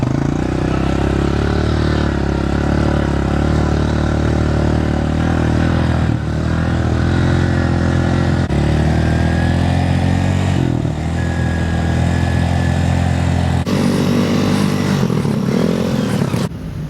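Motocross motorcycles running in the pit area, a continuous loud buzzing engine drone with shifts in pitch as the bikes rev, close and unbroken.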